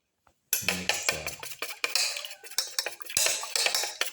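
Eggs for a black pepper green tomato omelette are whisked in a bowl, a utensil clinking and scraping against the sides in quick, uneven strokes after a short silence, close and clear.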